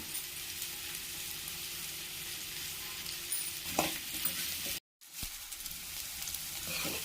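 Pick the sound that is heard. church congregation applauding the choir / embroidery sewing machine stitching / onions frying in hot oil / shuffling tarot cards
onions frying in hot oil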